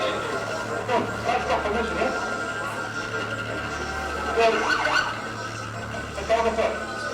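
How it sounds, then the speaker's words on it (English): An ambulance siren wails at a traffic accident where a truck knocked a woman over, rising and falling in several sweeps at moderate distance, with voices and road noise around it. "That was the ambulance siren."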